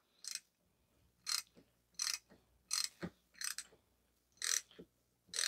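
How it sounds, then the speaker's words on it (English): Thread chaser being turned by ratchet on the damaged threads of a CV axle held in a vise: a series of separate clicking, grinding bursts about once a second, close and fairly loud, with quiet gaps between and no talk. "This is just a thread chaser."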